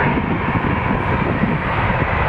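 A Jazz aircraft takes off from runway 23 at Toronto Pearson, its engines giving a steady, loud, broadband roar that holds without letting up from start to finish.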